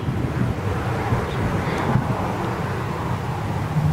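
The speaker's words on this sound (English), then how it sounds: "Sound a little bit dodgy, that engine." An aircraft engine at Birmingham International Airport, said to sound a little rough, gives off a loud, steady broadband roar for several seconds, heard outdoors with heavy wind buffeting the microphone.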